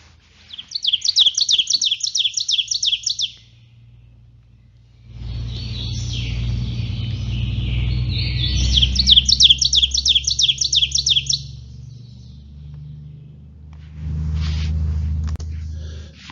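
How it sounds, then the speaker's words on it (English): An ovenbird sings twice in a Kentucky woodland, each song a rapid, rising string of repeated bright chirps lasting a few seconds, heard over a low rumble of passing traffic. "you're very familiar with the song of the ovenbird"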